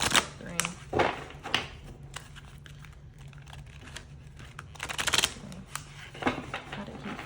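Tarot cards being shuffled, producing bursts of crisp riffling and crinkly flutters in several separate rounds, close to the microphone.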